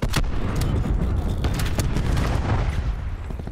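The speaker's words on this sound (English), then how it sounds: "Cluster grenade." A cluster grenade going off in Call of Duty: Black Ops 4 multiplayer, with a steady dense rumble of repeated blasts and crackling bangs throughout.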